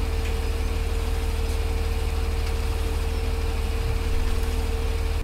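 A tractor engine idles in Farming Simulator 2017, a steady low diesel rumble that holds close and even throughout with no talk over it.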